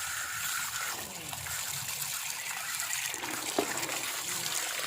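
Fresh turmeric roots rubbed and washed by hand in water, with continuous sloshing and splashing close by and a few small sharper knocks.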